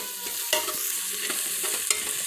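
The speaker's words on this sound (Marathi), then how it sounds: "या सर्व वस्तू ही तेलावरती चांगल्या परतून घ्या" Spices, chili powder and garam masala, sautéing in hot oil in a pan for khichdi, a steady close sizzle with a few scraping strokes of the spoon, no voices.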